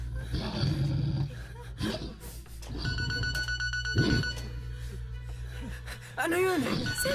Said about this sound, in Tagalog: Cellphone pa yun!